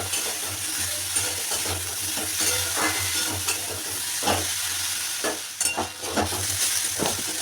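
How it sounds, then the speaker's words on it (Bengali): Eggplant slices frying in a pan for nim begun, a steady close sizzle with intermittent stirring clinks and scrapes over a low hum throughout, no voices. "এবার বেগুনটা ভেজে নিচ্ছি।"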